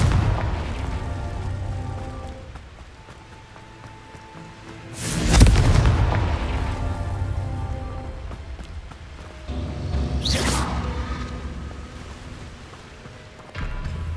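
Confringo fire spells burst in the Hogwarts Legacy game, two rumbling explosions several seconds apart over a low continuous game ambience and music.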